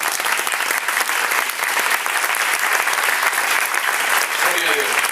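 A church congregation at a charismatic gathering claps for Jesus in a loud, dense burst of applause that holds steady for the whole stretch.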